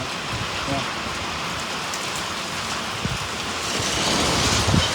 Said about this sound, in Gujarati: વરસાદ એવું ફૂલ શરૂ થઈ ગયું છે